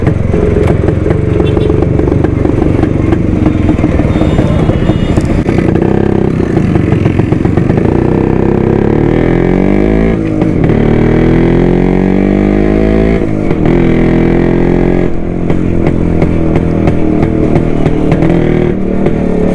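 Suzuki Shogun two-stroke motorcycle engine running loud and close, a steady buzzing idle with repeated revs rising and falling over about twenty seconds.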